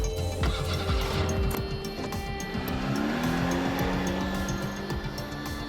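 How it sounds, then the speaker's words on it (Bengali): A 2005 Toyota Probox car's engine runs close by with a steady, continuous hum throughout, its pitch rising slightly partway through as though revved. "ফার্স্ট সেলফে স্টার্ট হেভি সুন্দর ইঞ্জিনের সাউন্ড"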